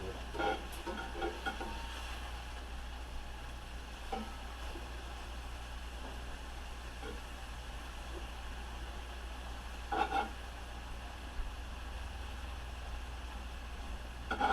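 Fajita meat sizzling in a skillet turned up to the highest heat, a steady low hiss of frying broken by occasional scraping and stirring sounds, with no talking.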